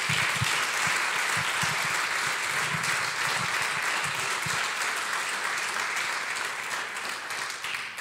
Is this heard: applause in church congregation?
yes